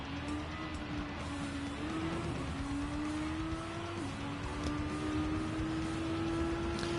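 A race car engine in Gran Turismo 7 pulls through a corner and accelerates, its whine climbing steadily in pitch with a brief gear-shift dip, loud and continuous with no talking.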